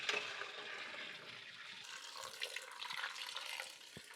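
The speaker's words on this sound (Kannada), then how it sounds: "ಈಗ ನೀರು ಚೆಲ್ಬಿಟ್ಟು ತಣ್ಣೀರು ಹಾಕ್ಕೊಂಡು ಇದನ್ನು ಬಿಡಿಸ್ಕೋಬೇಕು." Hot water is poured off a pot of boiled sweet potatoes and cold water is run in, a steady faint splashing rush with a few small clunks.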